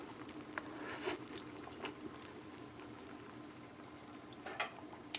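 Soft, close chewing and mouth sounds come from someone eating Instant Pot seasoned chicken drumsticks with rice and greens, faint over a low steady background hum.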